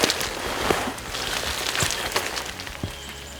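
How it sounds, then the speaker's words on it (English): Rain falls in damp woodland during post-season deer scouting, a steady close hiss with scattered sharper drops and patters, heard without talking. "Of course, it's raining."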